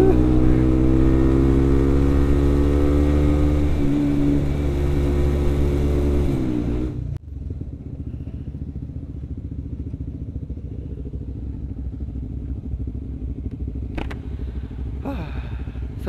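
A loud motorcycle engine revs hard on a street ride among Baby RR and XSR bikes, its pitch climbing and holding for about seven seconds before cutting off abruptly to a lower idle-like rumble.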